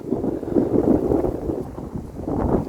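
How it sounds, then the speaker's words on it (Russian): Strong wind roars across a lake shore on Seliger, a loud, steady buffeting rush with gusts and no talk. "Ветер бушует."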